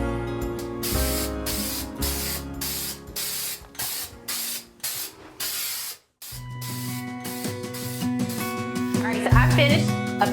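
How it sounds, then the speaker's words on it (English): Aerosol appliance epoxy sprays onto a bathroom countertop in repeated hissing bursts with short gaps, loud and close, with a low hum running underneath and a voice speaking at times. "I finished applying the spray epoxy last night"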